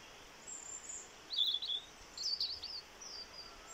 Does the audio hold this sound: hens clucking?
no